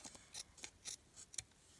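Scissors snip through paper in a quick series of about seven crisp cuts at a steady rhythm, close and quiet, with no talking over them.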